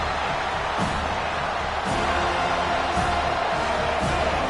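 American football stadium crowd at an Arkansas versus FSU game, a dense continuous roar building on third down, with occasional bangs standing out of the wide, loud din.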